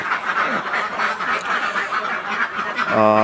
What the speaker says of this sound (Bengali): এখন কিন্তু এখানে সাড়ে চারশো মতো হাঁস আছে